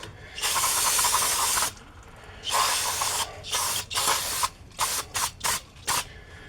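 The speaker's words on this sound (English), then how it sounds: "Give this a squirt of brake clean up some of that" Brake cleaner sprays in bursts onto rusty rear brake parts of a 2007 Chevy Impala: a long loud hiss, a pause, another long hiss, then a string of short sharp squirts close up.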